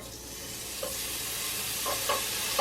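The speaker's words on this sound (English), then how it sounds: "while the pan is still hot, we're going to add a gob of garlic" Garlic sizzles steadily in a hot pan, a bright continuous frying hiss with a few soft scrapes as it is stirred, close and clear.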